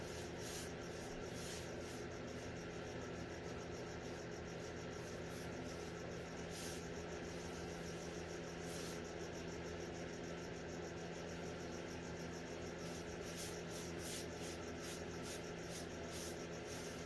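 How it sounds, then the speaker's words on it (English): Light, steady rubbing of an 800 grit sanding sponge across a painted nightstand during a furniture makeover, a soft continuous scratchy hiss with faint rhythmic strokes, low and close, with no talking. "lightly sand with some 800 grit sanding sponge in between"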